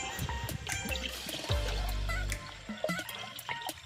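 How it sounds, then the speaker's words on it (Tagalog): Water pouring and trickling into a car radiator during a coolant change, a soft splashing flow with small gurgles and clinks, quiet and close. "lalabas ang tubig dito pag lagyan natin to ng tubig"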